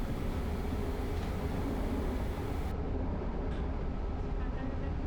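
Steady, loud rumble of a commuter train in motion fills the whole stretch, a constant dense roar of wheels and carriage noise with no pauses.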